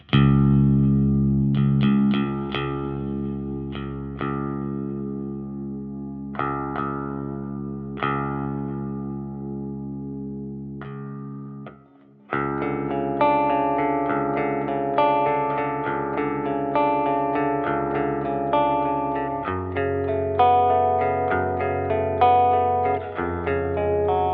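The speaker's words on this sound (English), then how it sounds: "So I'm going to go for like a notch filter sound." Electric guitar through an amplifier with a BOSS EQ-200 in the effects loop, set to a notch-filter tone: picked notes and sparse chords, then a brief drop and fuller, continuous strumming, swirling with echo and reverb, no voices.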